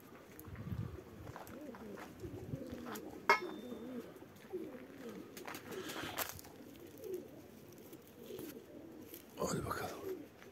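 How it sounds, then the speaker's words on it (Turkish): Collared doves coo in soft, low repeated phrases near a pigeon loft, mixed with rustling, clicks and brief bursts of wing noise, while a person talks intermittently. "Ne kadar kumru var ya."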